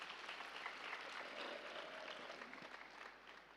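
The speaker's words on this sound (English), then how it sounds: "let's give a big clap to this project once again." Audience at a musical meditation session giving a clap for a project, soft, distant-sounding applause from a crowd, a faint even patter that slowly tapers toward the end.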